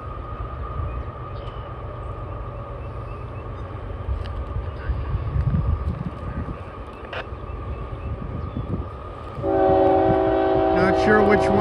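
Intermodal freight train rumbling past at Hannacroix, New York, a steady low roar of rolling stock that swells, then a loud, sustained multi-tone horn blast near the end.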